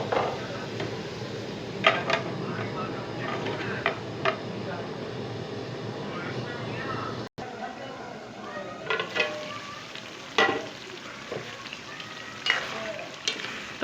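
Liver masala with tomatoes frying in a pan, with a steady close sizzle broken by the scrape and knock of stirring strokes at intervals, and voices faintly present under the cooking.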